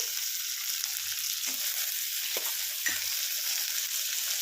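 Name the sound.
frying onions, cutting them with a spatula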